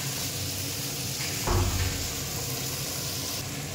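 Potatoes and peas frying in a pan for vegetable chops give off a steady close sizzle throughout, swelling briefly louder around the middle as the pan is stirred.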